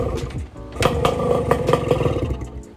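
A two-stroke motorcycle with its exhaust tip removed revs close by. Its raspy, crackling engine note rises and falls with sharp bursts throughout.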